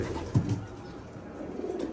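Pigeons on a loft day give a brief low coo near the start, then only faint shuffling and movement against a quiet, low background.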